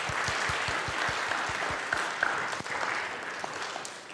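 Applause from an audience at a school awards ceremony, a moderate wash of many hands clapping with a few distinct low thumps early on, fairly distant and steady for about four seconds.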